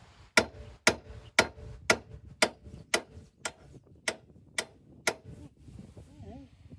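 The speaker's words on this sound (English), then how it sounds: "Give her a few more whacks." A hammer strikes a 2006 Subaru Forester's left front suspension in about ten sharp, evenly spaced whacks roughly every half second, loud and close, with a soft voice briefly at the end.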